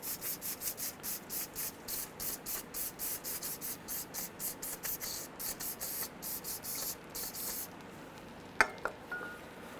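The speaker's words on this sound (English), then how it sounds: "We're going to hit it with some brake clean." Brake cleaner sprayed onto a greasy CV axle on a 2003-2011 Honda Element, heard as a long series of short, rhythmic hissing spray bursts, close and fairly loud, ending with a couple of faint metallic clinks.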